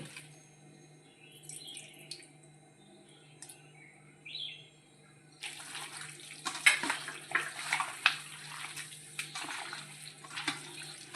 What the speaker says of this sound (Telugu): దీనిలో లెమన్ వాటర్ కూడా మనం పోయాలి